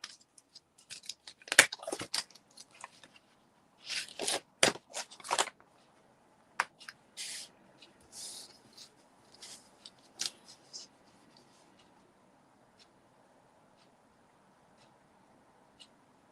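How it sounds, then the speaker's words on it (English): A paper dinosaur shape is die cut in a crafting session, with a burst of crisp crackling, rustling and clicking paper-handling sounds over the first ten seconds that then fade to near silence. "I just need to die cut my dinosaur"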